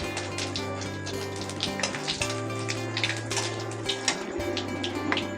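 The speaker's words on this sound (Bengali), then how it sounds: "তেলের পরে জিরে দিয়ে দিচ্ছি আর দিয়ে দিচ্ছি তেজপাতা" Cumin seeds, bay leaves and dried red chilies sizzle and crackle steadily in hot oil for Bengali khichuri, with small pops and a low steady hum running underneath, close and moderately loud, no voices.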